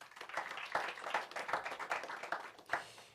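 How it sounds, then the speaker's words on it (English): An audience at a press conference applauding, a short burst of scattered hand clapping, fairly faint and distant, with individual claps audible throughout. "Please give a warm round of applause"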